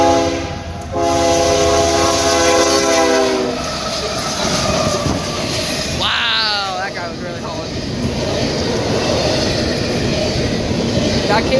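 A Canadian Pacific intermodal stack freight train passes close by: a loud sustained horn blast opens over the rumble, then a steady roar of rolling cars and wheel clatter continues while people talk nearby.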